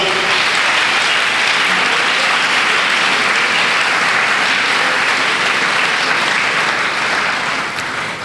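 A church congregation breaks into loud, sustained applause during an evening sermon, a thick wash of many clapping hands filling the space evenly before easing slightly at the very end.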